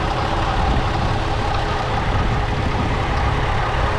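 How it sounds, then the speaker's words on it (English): Idling Jetta wagon engine with a slight belt tensioner rattle on the passenger side, a steady low mechanical hum and fine ticking texture held at an even level throughout, no talking. "We've got that slight rattling sound going on the passenger side of the car."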